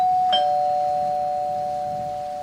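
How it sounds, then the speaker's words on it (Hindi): A single doorbell chime rings at the door of a house during heavy evening rain, a clear sustained tone that slowly fades, heard alone without any voices. "किसी ने डोरबेल बजाई।"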